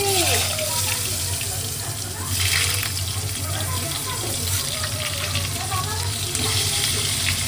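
Turmeric and salt sizzle in hot oil in a pan while cooking chicken liver, a steady close frying hiss throughout, with a voice talking faintly over it.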